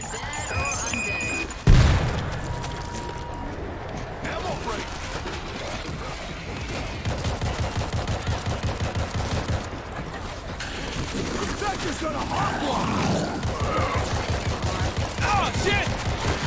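Gunfire in the World War Z video game: a sharp loud shot, then sustained rapid automatic fire rattling on and off with other action noise.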